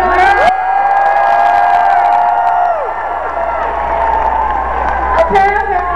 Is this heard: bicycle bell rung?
no